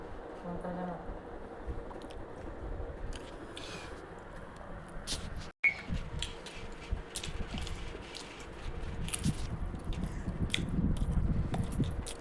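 Chicken fry biryani being eaten at home, with soft repeated chewing and biting sounds close up, running steadily under background household noise and occasional faint talk.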